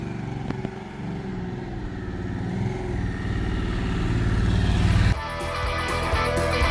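A Harley-Davidson Sportster S being ridden on a road tour, its engine droning steadily with a low rumble that builds gradually before an abrupt shift in tone near the end.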